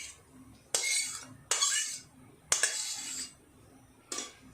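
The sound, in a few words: cleaning the cooking pan (karai) with utensil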